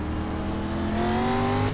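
Dirt street stock race cars at Limaland Motorsports Park in iRacing revving their engines at a restart, a loud rising engine drone with climbing pitch that fills the whole moment.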